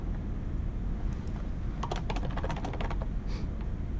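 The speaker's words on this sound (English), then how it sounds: "I'll explain why I'm typing all this after I get it typed" Steady clatter of keys being typed on a computer keyboard, quick irregular clicks over a constant background hiss, close up with no speech.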